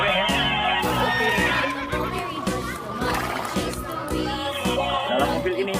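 A horse whinnies amid a busy, noisy scene, with a voice chattering over it and other toy and play sounds mixed in.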